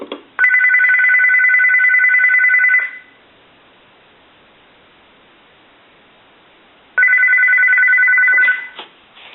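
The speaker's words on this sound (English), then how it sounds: "So let's go ahead and ring the telephone." An electronic telephone bell in a GE 25881EC A telephone rings in two long bursts separated by a few seconds of near silence, loud and close.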